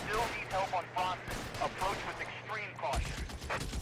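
Shotgun blasts in the L.A. Noire video game during a close-quarters firefight: several sharp, booming reports spaced irregularly at moderate loudness, with voices talking throughout.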